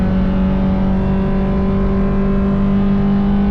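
Race cars running wheel-to-wheel at The Bend circuit, a loud, sustained engine drone with a steady pitch that stays close and continuous, heard without talk.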